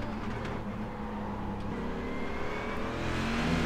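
A Corvette race car in iRacing at the Homestead road course, engine droning steadily then swelling louder toward the end as it revs, with a rough, choppy texture from downshifting wheel hop; no talking.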